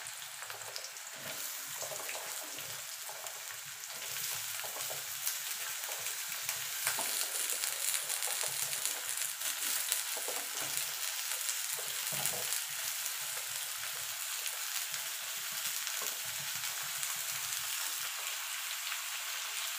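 Sliced ridge gourd sizzles and fries steadily in a pan over a high gas flame, a continuous bright crackle with occasional stirring scrapes and no voices.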